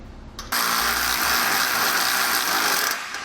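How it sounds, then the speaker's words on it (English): A power ratchet or impact tool buzzes in one steady, loud burst of about two and a half seconds, threading nuts onto bolts on a CE Smith Multi Sport Plus boat trailer coupler, up close with no talk. "Slide the appropriate bolts through and thread on our nuts."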